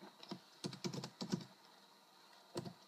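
Keystrokes on a computer keyboard while typing a localhost address: a quick burst of several clicks early on, another cluster near the middle, then a pause and one last tap, close and fairly quiet.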